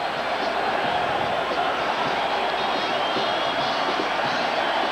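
Capacity stadium crowd cheering at a 1987 Steelers at Browns NFL football game in Cleveland, a dense steady roar throughout, loud and continuous, with a commentator talking over it.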